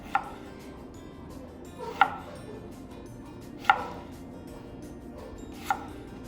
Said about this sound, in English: start from the other side and do a julienne cut from the other side